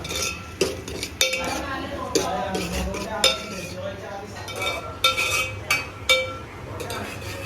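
Finely chopped tomato and green chilli are sautéed in a pan over high heat, with repeated sharp clinks and scrapes of a spatula against the metal while someone talks throughout.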